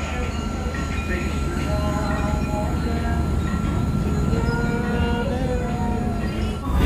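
A historic rail bus runs between Mathura and Vrindavan, its engine and wheels making a loud, steady rumble with rattling and squealing tones, heard from on board as voices murmur underneath.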